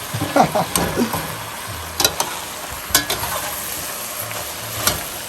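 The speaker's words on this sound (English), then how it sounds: "So all I'm doing is just getting the peppers warmed up now." Peppers and onions frying in a pan for a pasta sauce give a loud, close sizzle, with sharp spoon knocks and scrapes against the pan as they are stirred; no talk.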